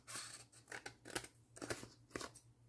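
Scissors cutting paper, a quick series of about six crisp snipping crunches in an uneven rhythm, close and quiet, with a faint low hum underneath.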